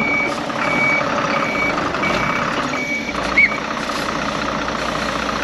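A converted bus backs in under its own engine, with a steady reversing beeper chirping at a regular pace over the loud, close diesel idle rumble.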